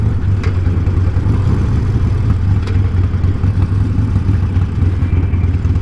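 A 2020 Harley-Davidson Sportster 48 cruiser engine thrums at low RPM in fifth gear on a highway, a steady, loud, continuous drone with wind rush and no talking.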